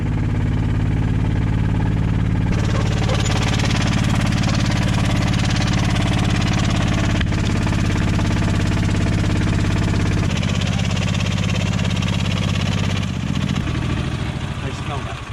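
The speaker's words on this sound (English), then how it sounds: "That engine's petering out, man." A golf cart engine strains on a steep hill, a loud, continuous, rough mechanical drone with a knocking quality that shifts and drops in pitch as it struggles, with voices talking over it.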